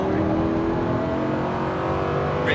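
A Lamborghini Huracan accelerates on a racetrack, its engine a steady, loud, close roar with no break for the whole moment.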